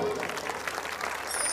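An audience at a Khatu Shyam devotional jagran claps loudly and steadily, a dense continuous burst of applause filling the whole moment.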